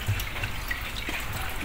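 Water drains fast from a washing machine drain hose once a blockage is cleared, making a steady, close rushing and gurgling flow throughout with no talking.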